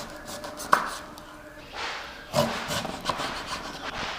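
A knife scrapes and cuts through the thick skin of a raw green jackfruit, giving a sharp knock followed by rough rasping strokes in uneven bursts, close and fairly quiet.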